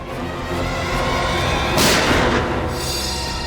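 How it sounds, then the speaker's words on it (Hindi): A single gunshot booms out in a tense crime-investigation drama scene, one loud burst rising briefly above a constant rumbling background. "गोली चलने की आवाज इस तरफ से आई।"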